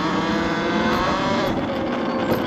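Talaria Sting R electric motorcycle accelerating at full throttle on a ride, a loud, steady whine with rushing wind noise filling the whole stretch.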